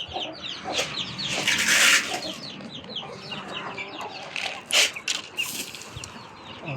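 A flock of chickens clucks and squawks continuously nearby, with a few sharper, louder cries rising above the busy chatter.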